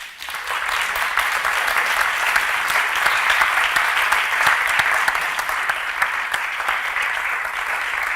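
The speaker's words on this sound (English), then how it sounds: "So a big round of applause for our guests." Sustained applause from an audience at a housing rights talk, thanking guests involved in a rent strike; dense, steady clapping holds at an even level for several seconds with no voices on top.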